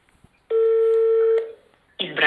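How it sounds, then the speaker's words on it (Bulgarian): A single steady telephone tone sounds for about a second after a brief click, then fades. A voice starts speaking right after it. "Ще звънна пред вас."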